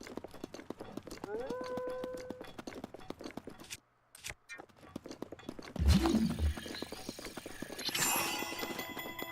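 Horse hooves clip-clopping in a steady trotting rhythm in the video game The Legend of Zelda: Breath of the Wild, joined by game music and effects, with a brief drop to near silence partway through.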